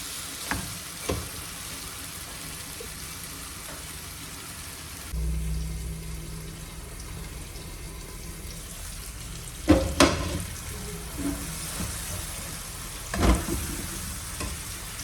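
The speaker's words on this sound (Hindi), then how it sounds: "अब ये तकरीबन मैं 3 से 4 मिनट तक इसको भूनूंगी" Chicken green curry fries in a pan with a constant sizzle. A low rumble starts about a third of the way in, and a few sharp clanks of the stirring spoon against the pan stand out, with no speech.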